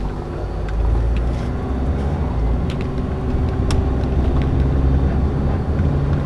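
A car on a test drive with an accelerator-pedal hesitation fault, giving a steady low engine and road rumble that swells slightly as it accelerates, with faint clicks and rattles inside the cabin and no talking.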